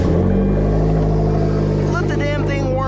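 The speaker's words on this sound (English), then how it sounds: "start the car real quick" A car engine idles steadily close by, a low continuous hum with a faint rising whine near the end, with no other sounds over it.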